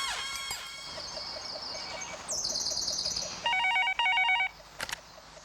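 A telephone rings in an office scene from a Shah Rukh Khan film, with trilling electronic ring bursts that start partway through and repeat, followed by a sharp click, with no talking over them.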